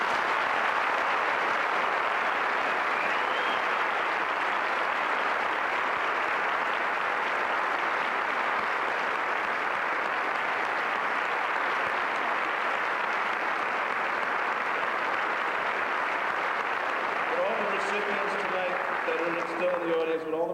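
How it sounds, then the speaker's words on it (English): Sustained applause from a large audience at a high school senior awards ceremony, a steady wash of clapping filling the room throughout, with a few voices emerging near the end. "students on the stage, please remain seated as we applaud you"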